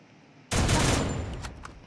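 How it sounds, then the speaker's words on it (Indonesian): An in-game explosion in the Free Fire battle royale mobile game bursts in suddenly and loud after a quiet moment, then holds as a dense, rumbling roar with crackling that slowly eases off. "Coba ya kita ledakin, bisa enggak meledak?"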